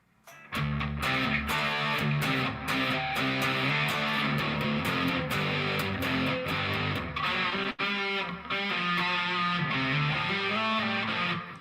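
An electric guitar with a heavy distortion effect plays loud, saturated chords and riffs continuously for around eleven seconds, with brief dips between phrases.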